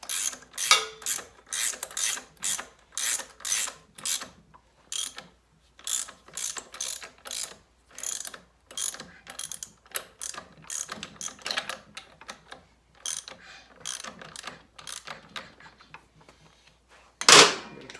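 Torque wrench ratcheting on a Norton Commando 750 motorcycle during restoration, a long run of close, crisp clicking strokes in uneven bursts with short pauses, ending in a sharper final click.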